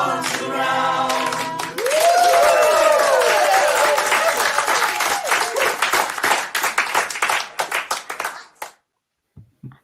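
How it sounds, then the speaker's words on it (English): Audience applause at a listening party, starting behind a brief musical tone, then swelling into loud dense clapping mixed with whoops and cheers before thinning into scattered individual claps and stopping. "we're keeping the applause going."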